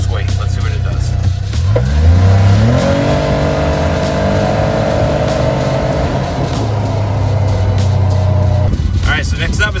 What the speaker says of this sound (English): Next up is the CF Moto 1000, and this one has the most horsepower with the most weight. Let's see what it does.